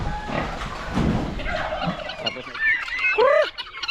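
Turkeys gobble on a farm, several bursts of warbling calls rising toward the end, close and fairly loud over background rustling and low farmyard noise.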